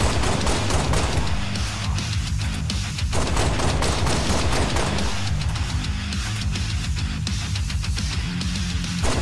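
Magnum pistol in Halo Reach firing steadily at roughly 240 rounds per minute, a dense run of loud, close gunshots over about nine seconds with a brief dip midway.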